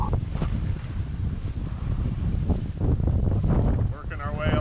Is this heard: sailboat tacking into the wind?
yes